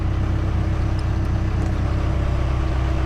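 Diesel engine of a Case 580SK backhoe running at a steady idle, a loud, close, low rumbling throb with even pulsing and no change in pitch.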